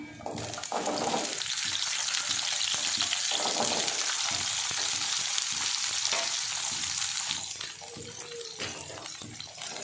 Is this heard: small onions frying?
yes